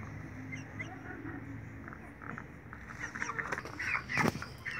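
A hen in a broiler-raising setting clucks softly and intermittently over a low hum, with a sharper, louder call near the end; faint voices are present.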